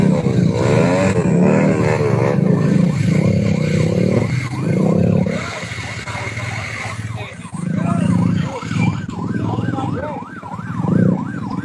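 A motorcycle engine runs near a road dusted with ash from the Mount Semeru eruption, its steady drone running throughout under continuous close conversation, with a wavering siren-like tone rising and falling.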